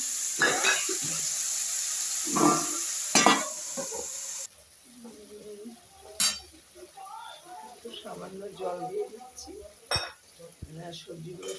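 Spiced vegetables for a dried-fish chorchori sizzle and fry in a pan after a little water goes in, with clinking spoon stirs and pan knocks up close, and a voice talking briefly over the cooking.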